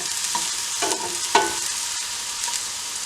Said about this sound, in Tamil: சின்ன வெங்காயம் சின்ன வெட்டி வச்சுருக்கிறேன். அதையும் போட்டு தாளிப்போம்.